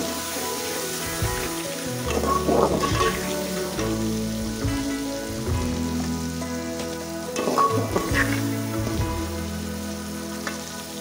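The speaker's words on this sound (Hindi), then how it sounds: "बस हल्की सी और फ्राई करेंगे हम इसको।" Onions sizzling in a hot pan, a steady close frying crackle with stirring scrapes and no talk.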